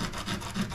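Sheet of cheap 150-grit sandpaper rubbed back and forth over the edges of a homemade spoon fishing lure, a close, dry scratchy rasp in short repeated strokes with no talking.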